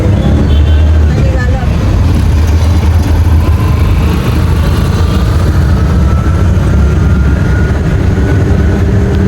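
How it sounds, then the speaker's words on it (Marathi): Road traffic in Pimpri rumbles steadily, low engine drone and passing vehicles close by, with voices talking over it the whole time. "आणि ट्रॅफिक पण आहे थोडं."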